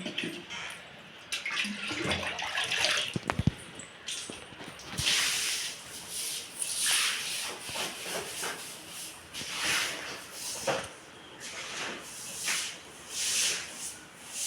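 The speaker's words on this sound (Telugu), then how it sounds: "ఇప్పుడైతే గది కడుగుతున్నాను" Water splashing and washing across a room floor at home, a steady soft wet hiss and sloshing with a few sharp knocks, moderately faint throughout, no talking.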